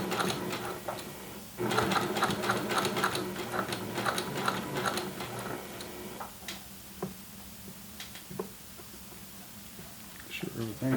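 A sewing machine stitches a throw pillow seam with piping and an invisible zipper, its rapid mechanical ticking running steadily in the first half before slowing to short intermittent stitches, while a person talks nearby.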